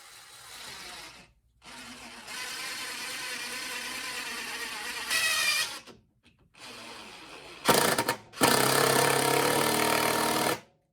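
Power drill driving a screw into a scrap piece of 2x4, with loud, close whirring runs of several seconds broken by short pauses and a final higher-pitched burst.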